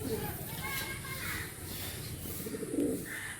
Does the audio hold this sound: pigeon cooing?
yes